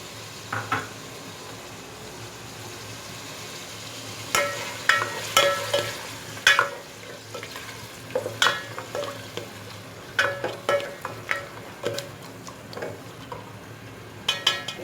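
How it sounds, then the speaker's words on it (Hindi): Garlic and ginger paste frying in a pot for beef pulao, a steady low sizzle beneath clacking spoon strokes and stirring scrapes that grow busier midway, close up with no talk. "इसे मैंने 5 मिनट फ्राई करना है।"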